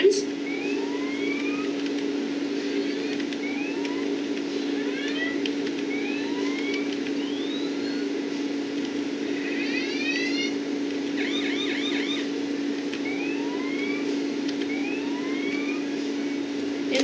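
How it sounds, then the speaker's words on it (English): Police sirens in the BeamNG.drive driving game wail in rising and falling sweeps over a steady engine drone, fairly loud and continuous throughout, with several overlapping siren tones. "so we are gonna turn on all the police sirens"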